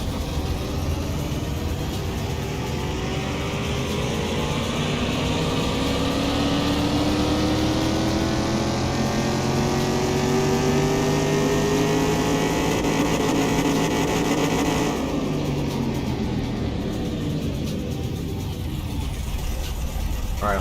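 Car engine in Car Mechanic Simulator 2021 revs steadily on a dyno run, a loud sustained drone whose pitch climbs through the pull before cutting off near the end.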